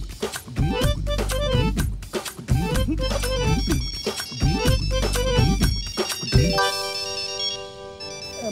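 A phone ringtone plays through several repeating melodic cycles, each phrase looping at a steady pace, then shifts to sustained tones near the end as the call goes unanswered; no one speaks.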